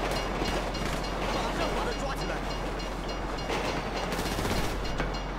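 A train passing in the video game GTA 5, a steady dense rumble and clatter running the whole stretch, loud and continuous with no clear gaps.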